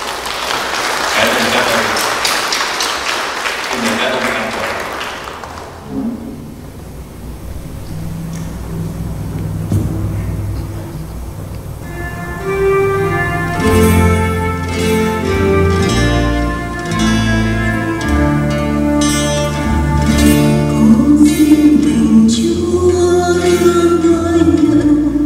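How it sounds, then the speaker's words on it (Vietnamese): Congregation applause for fathers during a Sunday Mass in church: a burst of clapping for several seconds fades out, then instrumental music plays on alone. "chúng ta hãy cho những người cha này một tràng pháo tay"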